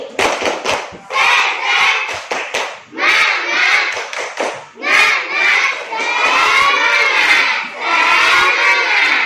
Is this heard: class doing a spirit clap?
yes